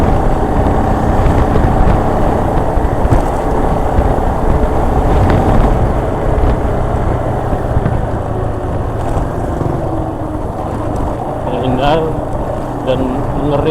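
A motorcycle ridden along a damaged road with peeling asphalt, its engine droning steadily and continuously from up close with road and wind noise.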